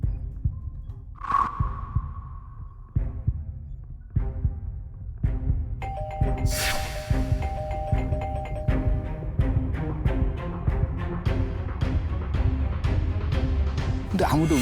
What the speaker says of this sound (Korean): 초인종을 눌렀어요. 딩동 딩동.